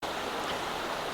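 Steady, dense rush of falling water at the Algar waterfalls in Spain, close and continuous with no pauses or voices over its brief span.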